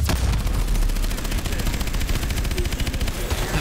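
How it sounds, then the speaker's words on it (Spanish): Missiles and rockets fire in a sustained, dense barrage during a Call of Duty: Advanced Warfare battle, with loud rapid blasts and gunfire-like cracks layered continuously with no pause. "¡Vámonos! Misiles, misiles, cohetes."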